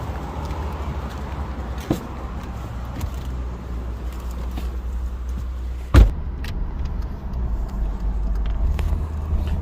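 A 1998-2009 GMC Envoy with a front drivetrain noise under diagnosis, driving on the road: a steady low interior road and engine rumble with a couple of sharp clunks, no talk.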